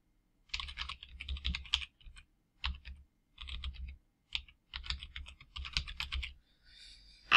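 Someone types a web address on a computer keyboard: quiet, close key clicks in quick bursts separated by short pauses, ending with a sharper final keystroke, no talk.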